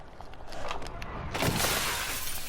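Glass shattering in a crsed video game, a single loud bright crash midway through with scattered shards trailing off, no talk.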